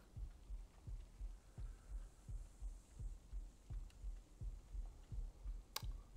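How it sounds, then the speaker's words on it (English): A heartbeat sound effect from the video game Ark Survival Ascended Scorched Earth throbs steadily, a low double thump repeating about twice a second, faint and even over a soft hum. "it's just literally the, the heartbeat. So I, I am very slowly dying though"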